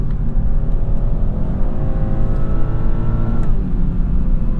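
A 2021 BMW 430i xDrive accelerates in sport mode, its muted, well-isolated engine note climbing smoothly in pitch and then settling, heard steadily from inside the cabin.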